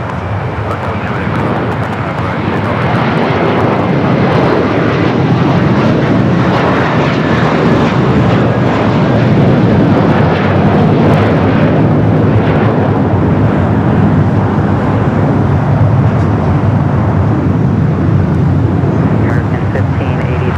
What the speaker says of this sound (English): Had this Delta A321 Neo touching down here on the south side